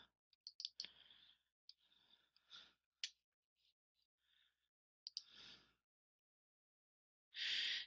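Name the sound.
computer mouse clicking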